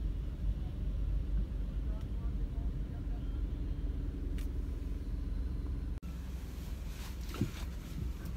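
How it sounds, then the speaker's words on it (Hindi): Steady low rumble of idling and slow-moving vehicles stuck in a traffic jam on a ring road in Lahore, continuous and close, heard from inside a vehicle while someone talks. "यहाँ ट्रैफिक में फंसना पड़ता है लाइन में।"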